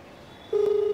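A single steady telephone dialing tone sounds while calling a number back. It comes in loudly after a quiet moment and holds for under half a second.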